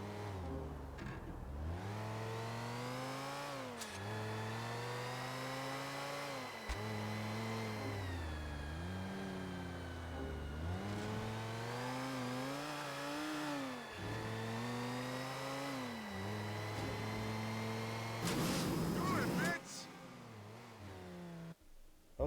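A car in GTA IV: The Ballad of Gay Tony accelerating hard with nitrous, its engine roaring and revving through repeated rising gear sweeps with brief drops between shifts, loud and continuous, ending in a burst of noisy rushing.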